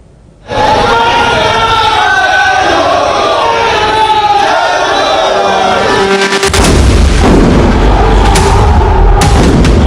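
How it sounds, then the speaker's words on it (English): Tear gas shells are fired at protesters, heard as loud booming bursts over a constant roaring crowd with shouts and cries, growing heavier and denser toward the end. "they are firing tear gas shells on the protesters"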